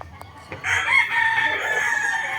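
A black DBH cross rooster lets out a single loud crow close by, a drawn-out strained call lasting nearly two seconds after a few brief clucks.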